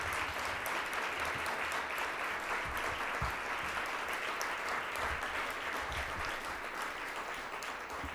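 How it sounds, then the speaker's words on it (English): Steady, dense applause from a seated audience at a civic club panel discussion on redlining, sustained and even throughout with a faint voice or two underneath. "could we give them a round of applause?"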